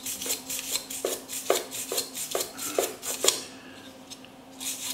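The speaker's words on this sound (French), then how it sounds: "une brosse un petit peu plus dure" A harder brush scrubbing encrusted residue off a part, a series of rapid rasping strokes in quick rhythm, close, then a short pause before scrubbing resumes.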